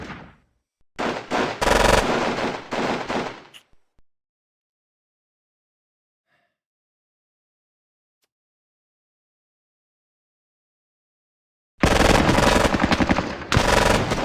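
Gunfire in the video game Squad Battles Eagles Strike, two loud sustained bursts of rapid firing, one early and one at the end, separated by long silence.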